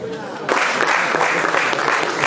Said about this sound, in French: Vous avez l'occasion de vous applaudir.